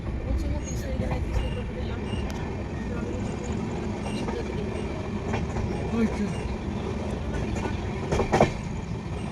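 A passenger train rolls into Liluah station near Howrah, heard from on board as a loud continuous rumble with rattling carriages and a few sharp clanks near the end, while people talk over it.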